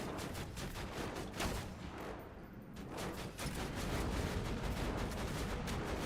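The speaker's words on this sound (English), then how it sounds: "Oh, turret so got this." A gun turret in Borderlands 2 fires a dense, continuous stream of rapid shots, loud and close, with only a brief dip in the barrage midway.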